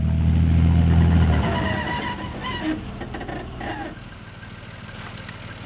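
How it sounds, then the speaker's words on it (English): A 64-ton Leopard 2 battle tank with a 1,500 horsepower engine runs nearby, a loud deep rumble that drops to a steadier, quieter drone partway through, with no talking. "We're here on a Leopard 2 battle tank."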